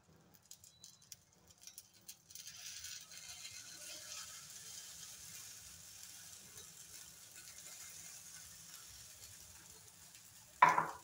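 Egg mixture poured over carrot sizzles and fries in a hot pan, a steady soft crackle building after a few seconds and holding on alone, ending with a sharp clatter.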